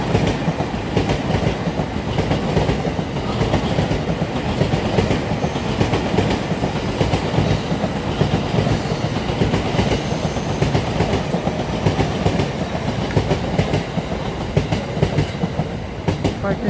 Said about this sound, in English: There's a train coming now.